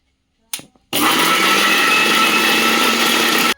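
A kitchen mixer grinder grinds mutton masala: a short clunk, then a loud, steady high-pitched motor whir for about two and a half seconds that cuts off abruptly.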